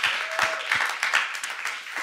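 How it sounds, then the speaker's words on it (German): A theatre audience claps for the writer of a play about Jesus, giving brisk, fairly close applause that holds steady for a couple of seconds. "Großen Applaus für den Michi Friedli"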